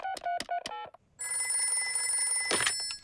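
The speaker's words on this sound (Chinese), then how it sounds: "我来给棕熊医生打电话" A cartoon telephone call to a bear doctor: a few quick dialing tones, a brief pause, then a steady electronic ring that trills on alone.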